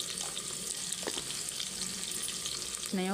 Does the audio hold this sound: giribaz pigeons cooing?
no